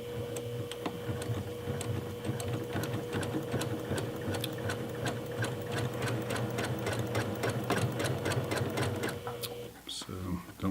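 A sewing machine stitches fabric for a makeup bag's pull tabs in a fast, even run of mechanical clicks, close and steady for most of the stretch before stopping, with a voice talking underneath.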